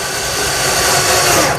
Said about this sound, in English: I pre-drill holes for the screws and simply drive the screws tight.